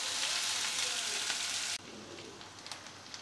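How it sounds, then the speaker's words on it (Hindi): Finely chopped onion sizzles loudly in a pan over a high gas flame, a dense, steady frying hiss that drops to a quieter crackle partway through. "गैस का फ्लेम हाई करके प्याज के कलर चेंज हो जाने तक हमें फ्राई करना है।"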